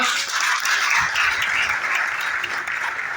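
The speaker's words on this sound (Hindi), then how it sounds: "जोरदार तालियां।" Applause from a church congregation welcoming its pastor, a steady, fairly loud wash of clapping filling the whole stretch with no voices standing out.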